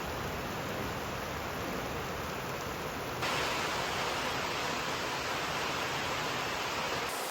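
Hail pelting a truck, a dense, steady hiss of countless small impacts that holds at an even loudness and grows slightly fuller and brighter partway through, with no voices.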